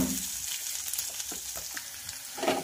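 Garlic and ginger paste frying in a pan for a dal shevga recipe, a steady close sizzle with crackling pops and occasional stirring scrapes, no talking.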